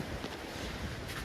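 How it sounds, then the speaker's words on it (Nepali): Strong wind roars steadily against the microphone during a stormy spell outside a home, a dense, continuous buffeting rush with no pauses and no voices. "हावा चलेछ"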